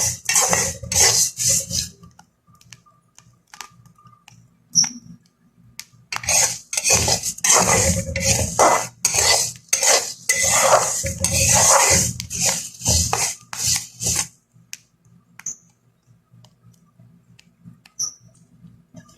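Rice grains frying with grated coconut, stirred in a pan, producing dense bursts of scraping, rattling and sizzling with short pauses between, loudest in the middle stretch and fading to quiet near the end; no talking.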